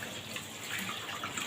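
Tap water runs steadily into a sink while lentils for Egyptian koshary are rinsed, a continuous close splashing hiss with no talk.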